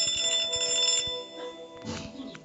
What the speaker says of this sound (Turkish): şu kap şey telefon çaldı duydunuz